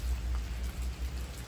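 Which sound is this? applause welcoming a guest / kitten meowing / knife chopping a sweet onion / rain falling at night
rain falling at night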